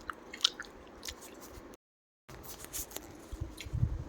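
Close, soft wet chewing and biting of itili pitha, Odia rice pancakes, in irregular squishy bursts with a short silent gap midway, the mouth sounds growing louder toward the end.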